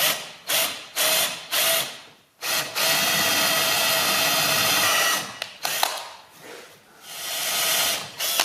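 A 6mm tap being wound by hand into a broken stud while working on a military vehicle's rear spring and brakes: a series of short metallic ratcheting bursts, then a longer steady grinding stretch and more bursts, close and fairly loud.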